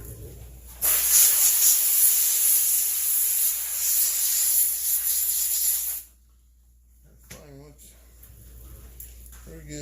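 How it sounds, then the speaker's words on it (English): A strong, steady water spray hisses for about five seconds while rinsing a McCulloch chainsaw starter part, then cuts off abruptly, leaving quiet with a few faint clinks. "I'm gonna rinse that off."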